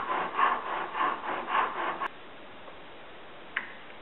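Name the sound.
chiseling wood for a turkey box call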